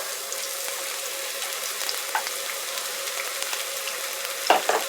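Hot avocado or grapeseed oil, a couple of tablespoons, sizzles steadily in a pan over high heat, a soft continuous crackle with a brief louder burst of spitting near the end.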